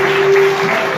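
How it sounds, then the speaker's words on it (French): Wedding guests clap and cheer at a mixed marriage celebration, a brief, loud and dense burst of applause with a steady tone running underneath. "Des acclamations."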